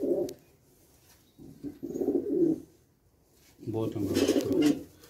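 Pigeons at a fancier's loft coo in soft, low, throaty bursts, about three rounds spread across a few seconds, while someone talks nearby.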